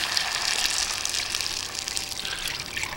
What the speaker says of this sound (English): I'm going to add my milk to it.